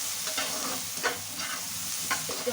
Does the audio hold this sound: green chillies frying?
yes